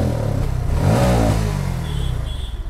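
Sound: Bajaj Pulsar NS160 motorcycle engine revving at full throttle

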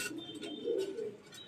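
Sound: racing pigeons cooing in loft

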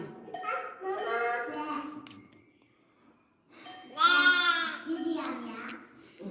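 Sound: newly lambed sheep bleating

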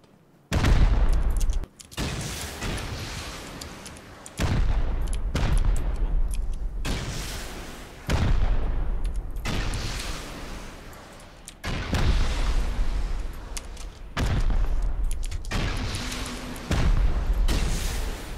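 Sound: gunfire during a raid in the video game Rust

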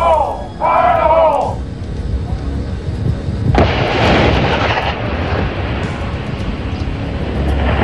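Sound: explosive charges detonated by Marines in a test

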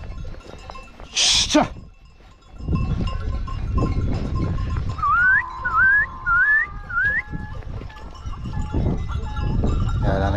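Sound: sheep and goats with bells

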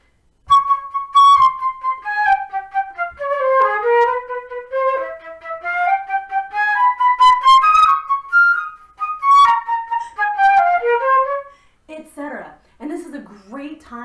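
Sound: flute playing a midstate audition passage

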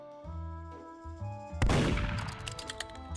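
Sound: gunshots in the video game Roblox Murder Mystery

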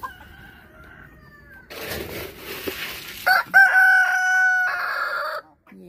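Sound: rooster crowing

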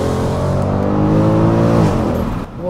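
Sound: Mercedes C63 AMG engine and exhaust accelerating

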